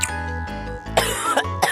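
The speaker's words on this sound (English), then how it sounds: "When food enters your airway instead of your esophagus, the body immediately triggers a strong cough reflex" Harsh coughing and throat clearing, as when food slips into the airway, comes in a few sharp bursts over a faint tonal backdrop in an animated short.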